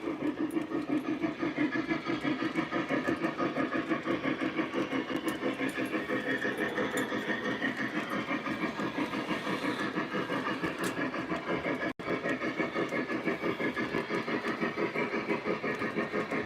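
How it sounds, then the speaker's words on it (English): Lionel and MTH O-gauge model trains running, with a diesel locomotive rumbling along the track; a steady, rhythmic clunking and clicking of wheels over rail joints continues at an even pace, fairly close and unbroken. "I do like that like clunky diesel sound"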